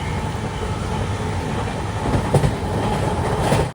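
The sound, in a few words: train running, approaching Nellore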